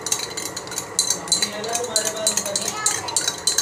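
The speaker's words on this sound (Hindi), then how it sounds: "मिक्स कर लेते हैं इसको स्पून से।" A spoon stirring lemonade in a glass, giving repeated light clinks and scrapes in an irregular rhythm, close and fairly clear, with no talk.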